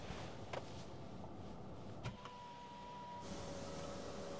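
Electric power windows on a Mini Cooper SE whir steadily for a few seconds inside the car cabin, the motor hum sustained with faint clicks at start and stop, no talking over it.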